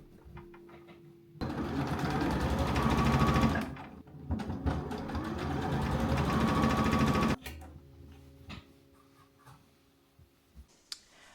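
Domestic sewing machine stitching the side seams of a skirt, running in two loud, close bursts of rapid mechanical whirring and clicking separated by a short pause, then stopping into quiet handling sounds.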